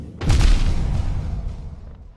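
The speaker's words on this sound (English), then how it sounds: "And one more explosion for good measure." A single loud, close explosion booms in the Hollow Knight video game, with a sharp onset and a long rumbling decay that fades over about two seconds.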